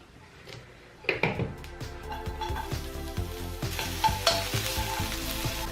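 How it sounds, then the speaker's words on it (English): Carrot being pan fried, a sizzle that starts suddenly as it hits the hot pan and then continues steadily, with rhythmic scraping and clattering as it is stirred and tossed, close and clear with no talking. "Now it's time to pan fry the carrot exactly the same way we did with the zucchini."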